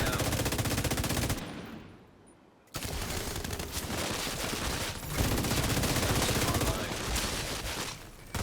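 Extremely rapid automatic gunfire from a high fire-rate rifle in The Division 2, dense sustained bursts broken by a short pause, then resuming loud and continuous to the end.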